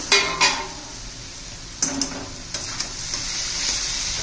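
A pan lid clanks off and a spoon scrapes and knocks through bitter gourd curry in a pot, several distinct metallic clatters over a faint sizzle, close and unaccompanied by talk.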